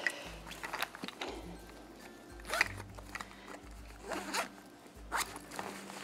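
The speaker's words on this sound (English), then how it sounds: "So that zips up" A bag zipper pulled in several quick bursts, close by, with rustling handling sounds between the zips.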